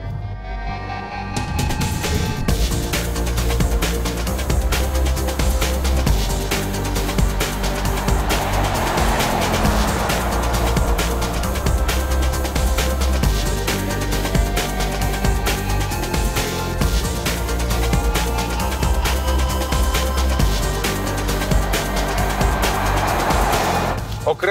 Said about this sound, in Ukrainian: вихлопна система в перші секунди після старту автомобіля звучить просто бездоганно